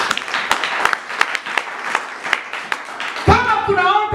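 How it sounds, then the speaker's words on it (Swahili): A church congregation at a thanksgiving service claps, loose and scattered, with individual hand claps audible, and a voice speaks over the end. "Tupe Bwana sadaka nzuri ya makofi"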